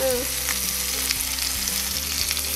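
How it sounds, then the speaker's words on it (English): A Danish breaded patty fries in butter and a little oil, giving a steady, close crackling sizzle with faint low hum beneath, no voices. "Then it's about 3 minutes on each side, and then you can add a bit of oil in order to keep the butter not burning."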